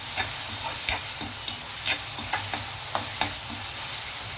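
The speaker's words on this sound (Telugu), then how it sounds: "ఇది ఒకసారి కలుపుదాము." Okra curry with spices being stirred in a pan: repeated scraping strokes of a spoon at a steady rhythm, about ten distinct clicks and scrapes over a soft, continuous sizzle, close up with no voices.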